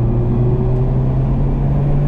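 A race car engine droning steadily on the track at Homestead Miami Speedway, heard from inside the car as a loud, even hum holding a constant pitch throughout.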